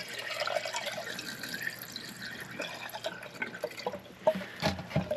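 Flushed AC condensate drain line during installation with a clean-out port, water trickling and gurgling as air bubbles back up through the pipe, with irregular drips and splashes growing louder toward the end.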